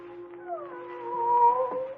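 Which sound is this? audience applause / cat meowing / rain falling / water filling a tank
cat meowing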